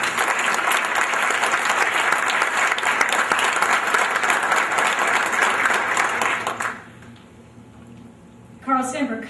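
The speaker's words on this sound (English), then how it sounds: "if we could just give them all a round of applause" An audience at a college alumni awards evening bursts into dense, steady applause for several seconds, then it dies away and a voice begins speaking.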